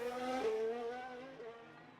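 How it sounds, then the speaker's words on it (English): A Formula 1 car exits the pit lane in F1 Manager 2022, the engine revving and shifting pitch as it pulls away, fairly faint and fading toward the end, with no talking. "That exit sound from the pit lane sounds really good."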